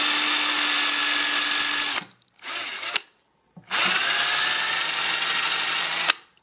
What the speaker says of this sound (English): So we're going to drill our pilot hole,